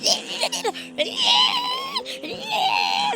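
A young child screams and cries in high, wavering bursts, close and loud, with some talking mixed in.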